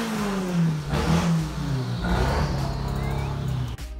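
A small, aggressively tuned Honda Civic revs hard at a car show, its engine note climbing and falling in loud, close pulls with a whirring mechanical edge and faint background chatter.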